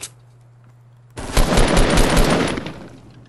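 Sustained burst of automatic gunfire in a Fortnite Battle Royale match, starting after a second of near-quiet with a faint hum, loud and continuous for about two seconds before tapering off.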